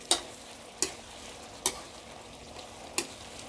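Chopped soft pork ribs are stir-fried in a pan until the liquid dries off. Four sharp, spaced spatula scrapes cut through a low, constant sizzle.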